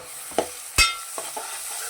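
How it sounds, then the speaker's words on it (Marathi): Ground masala paste frying in oil in a pan for a village-style chicken curry: a soft bubbling sizzle with a couple of quick scrapes and one sharp clack of the spoon, close, with no talk. "हा मसाला तेलावर व्यवस्थित असा तेल सुटेपर्यंत आपण फ्राय करणार आहोत"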